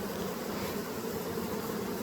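Honey bees buzz around hive frames holding pollen and honey during queen rearing, a steady close droning hum that fills the whole span without pause and with no talk.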